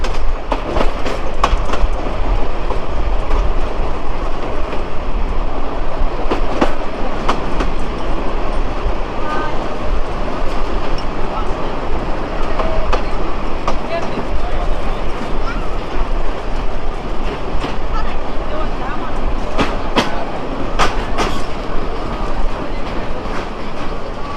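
A Narayanganj commuter train in Bangladesh rumbles loudly along the rails with a constant roar and rhythmic clatter of wheels, heard from on board, arriving at Chashara station.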